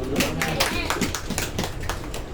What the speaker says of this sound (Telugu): చప్పట్లు కొట్టచ్చు అంటావా?